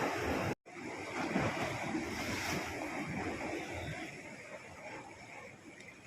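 Ocean surf rolling in at high tide along a beach, with a steady broad wash of breaking waves and wind noise buffeting the microphone throughout, briefly cut near the start.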